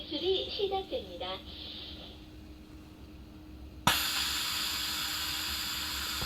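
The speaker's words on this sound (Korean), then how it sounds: "증기 배출이 시작됩니다." Rice cooker venting steam while cooking rice, a sudden steady broadband hiss that starts abruptly and continues loud and even after a brief stretch of quieter background.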